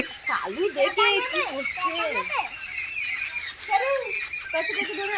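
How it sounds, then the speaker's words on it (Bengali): Birds squawk and chirp in a busy, overlapping chorus nearby, with harsh rising and falling calls repeating throughout. "ওই দেখ পাখিগুলো কিচির মিচির করছে"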